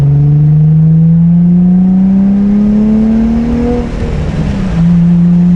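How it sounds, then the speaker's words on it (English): An Infiniti G37 engine drones loudly, its exhaust pitch climbing steadily as it revs, then dropping briefly before settling back into a deep hum. "Let's just listen to the exhaust tone."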